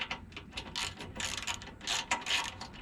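Ratchet tightening 13 mm bolts while mounting Aries RidgeStep 6.5-inch running boards on a Toyota Tundra: close, rapid clicking in repeated short bursts with brief pauses between strokes, no talking.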